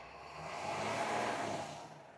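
A 2020 Freightliner M2 truck with a Cummins L9 diesel engine idles with a steady, moderately loud broadband rumble that swells slightly midway, heard nearby with no talking.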